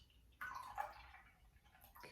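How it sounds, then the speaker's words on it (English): Straight Tea pours into a glass in a short, faint burst of liquid with a few drip-like splashes, quiet and close, then trailing off into near silence. "I'm gonna pour this into my glass"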